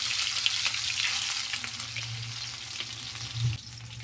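Whole spices and ground spice paste fry in hot oil for a shing fish curry, giving a loud, steady crackling sizzle with faint stirring scrapes throughout and no talking.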